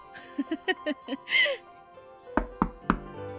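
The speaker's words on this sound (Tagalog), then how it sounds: "Ay, si Ana yata yung kumakatok" Several sharp knocks land on a door, a quick cluster of raps followed by three heavier, spaced thuds, close and loud in an indoor room.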